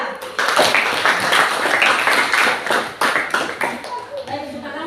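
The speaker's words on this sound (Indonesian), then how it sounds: "kita kasih aplaus untuk kelompok 2" Group applause in a classroom-style coaching session, a burst of many hands clapping together at close range, dense and uneven, holding for about four seconds with voices mixed in underneath.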